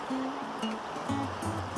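The Fremont River in Capitol Reef, Utah, a year-round desert stream, flows in a steady broadband wash of water with a few soft low tones drifting under it, no voices.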